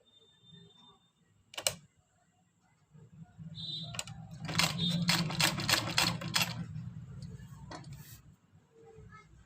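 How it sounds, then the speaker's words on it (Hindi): A sewing machine stitching a simple neck design on a suit or kurti, running in a quick burst of rhythmic needle clatter after a few isolated clicks and knocks. "तो सारे को हम इसी तरह से लगाते जाएंगे और सिलते जाएंगे।"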